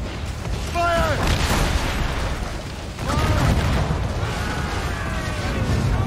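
Cannon fire in an Assassin's Creed Rogue naval ship battle: heavy booms land about a second apart and again at three seconds, over a dense, loud roar of battle noise with whistling tones.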